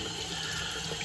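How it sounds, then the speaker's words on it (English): Lukewarm tap water runs steadily over a razor blade at a sink during a wet shave, a close, continuous splashing stream with no talking. "Lukewarm water running over the blade face"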